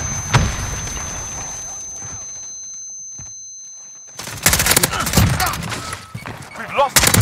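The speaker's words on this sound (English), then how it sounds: "Throwing grenade!" Grenade thrown in Call of Duty Modern Warfare headquarters multiplayer, a thump and then, after a quiet gap, a loud burst of explosion and gunfire crackle continuing to the end.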